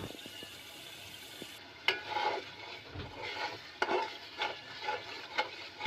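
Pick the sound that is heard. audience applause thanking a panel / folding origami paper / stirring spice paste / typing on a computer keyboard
stirring spice paste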